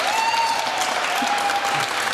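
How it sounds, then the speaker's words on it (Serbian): A television studio audience claps in a dense, even burst of applause that holds at full strength for the whole stretch, close and loud, with a faint voice briefly under it. "Molim vas, veliki aplauz za Anu Brnabić."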